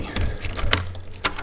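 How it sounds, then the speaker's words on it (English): A bunch of keys jangles and clinks in short bursts while someone fumbles to unlock a theater light booth door, close by, with a faint background hum. "I should have unlocked this door first."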